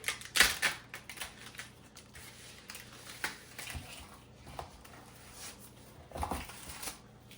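A D2 steel drop-point folding knife slices through plastic wrap on a turkey, making faint, scattered crinkles and sharp ticks in irregular bursts with quiet gaps between them.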